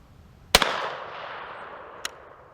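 One loud outdoor blast from a Harrington and Richardson Model 088 .410 single-shot shotgun firing a Remington shell, with a sharp crack and a long rolling echo, then a fainter click shortly after.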